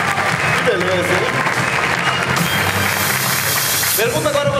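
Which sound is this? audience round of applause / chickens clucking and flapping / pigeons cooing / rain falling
audience round of applause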